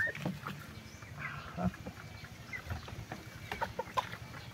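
A Bamboline hen being bathed gives soft, scattered clucks, close and fairly faint, mixed with small splashes and handling noises.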